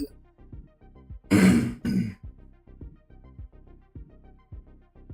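A streamer who is feeling unwell gives a couple of loud, close, harsh throat-clearing coughs in quick succession, set against quiet background music with a steady rhythmic pulse.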